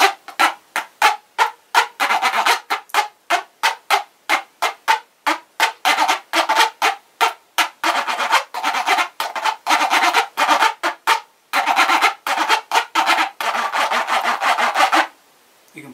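A ridged toothpaste box is scraped as a friction instrument in quick rhythmic strokes, a dense series of loud raspy rubs with short gaps, alone and close, before ending abruptly near the end.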